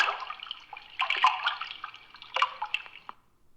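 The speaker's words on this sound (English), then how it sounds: "The boat glides through the tranquil waves." Water laps and trickles around a small boat gliding over a calm sea in an audio adventure game, soft sloshing and dripping in a few gentle surges before fading to silence.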